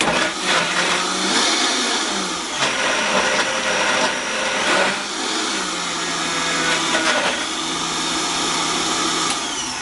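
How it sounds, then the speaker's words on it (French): A Magimix food processor whirs loudly while blending raw chocolate mousse, its motor running in long continuous bursts broken by brief stops and restarts. "pour les mousses, en fait, c'est mieux un mixeur comme un Magimix"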